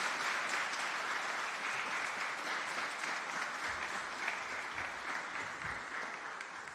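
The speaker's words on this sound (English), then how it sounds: "Let's give a warm round of applause for Administrator Zeldin" Audience applause for EPA Administrator Lee Zeldin at an Environmental Protection Agency announcement: steady, dense clapping from a crowd that carries on evenly and eases off slightly toward the end.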